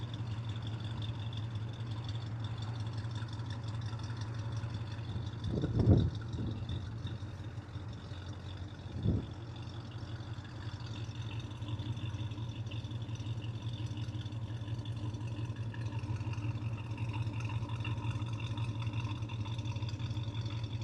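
A 1965 Pontiac GTO with a 389 engine idles steadily, its exhaust giving a low, even, moderate rumble throughout, with a couple of brief louder bumps partway through and no talk.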